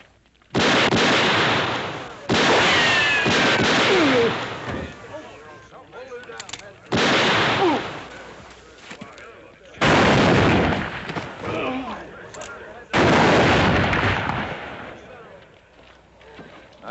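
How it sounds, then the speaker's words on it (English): Gunfire in a Western drama, with five loud, close volleys of repeated shots, each lasting a second or two and separated by short gaps, while someone speaks between them. "That's enough shooting."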